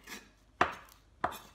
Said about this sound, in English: all the ingredients we are chopping up is to make a nice little salad for our lunch here